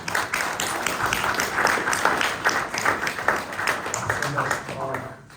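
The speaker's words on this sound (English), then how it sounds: "And I think a round of applause for Natasha" Audience applause at a boxing post-fight press conference for a women's boxing points win, steady clapping throughout with voices talking over it.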